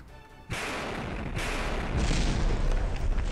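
Grenades detonate in the shooter game CS:GO as a loud broadband blast around half a second in, then a second heavier boom about two seconds later, each followed by a sustained rumbling roar with no talking.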